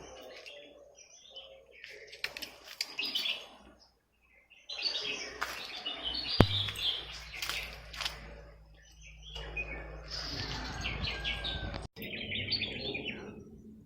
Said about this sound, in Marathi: चिमण्यांचा दंगा चाललाय